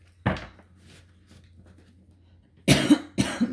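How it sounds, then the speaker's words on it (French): A woman coughs in a short close burst, then after a quiet pause gives two more harsh coughs in quick succession. "je tousse encore un peu"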